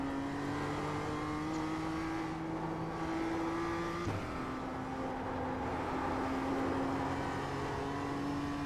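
A BMW M2 CSR races in the iRacing sim, its engine holding a sustained, rising whine that breaks once at a gear change midway, then climbs again, steady and close, with no talk.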